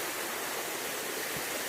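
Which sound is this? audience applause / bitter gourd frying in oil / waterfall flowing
waterfall flowing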